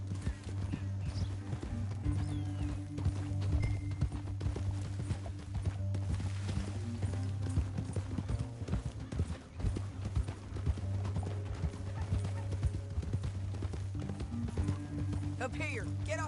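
Rapid hoofbeats of several horses galloping in the video game Red Dead Redemption 2, loud and close, continuing steadily throughout with a low rumble beneath.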